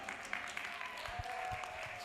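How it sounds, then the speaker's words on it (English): Faint, steady clapping from a workshop audience on land-use classification standardisation, a soft continuous patter lasting about two seconds with no voices over it. "Shall we clap for her, please?"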